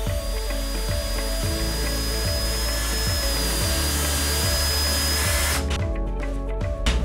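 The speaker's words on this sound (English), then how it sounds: "I use a wire brush for my drill." A wire brush on a power drill spins against a golf iron head to clear rust and debris, giving a loud, steady whirring grind with rhythmic scraping pulses, and the motor stops near the end.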